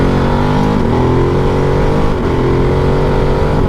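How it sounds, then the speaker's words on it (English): Ducati Desert X Rally motorcycle pulling away hard with a quick shifter, its loud, close engine note climbing steadily with a brief dip near the midpoint as it shifts up, running continuously without speech. "This is just what it's like when you take off on this beast using the quick shifter."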